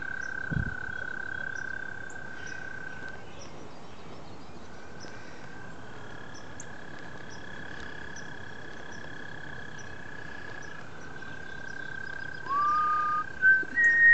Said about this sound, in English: They're croaking.